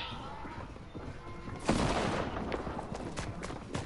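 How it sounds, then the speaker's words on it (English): Gunfire in a Fortnite murder mystery match: a sharp, loud shot rings out, then scattered fainter shots and clatter follow at mid distance. "I keep hearing gunshots, dude."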